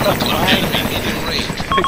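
Helicopter in the combat game ArmA2, a steady rotor and engine drone filling the mix under battlefield noise and a bit of talk.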